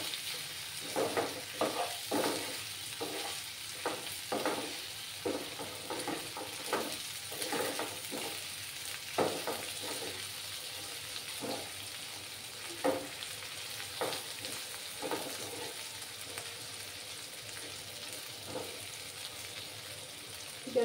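Tomatoes with a little salt fry in a pan on a gas flame, giving a continuous soft sizzle broken by frequent scraping stir strokes at an uneven rhythm, fairly quiet and close, with nobody talking.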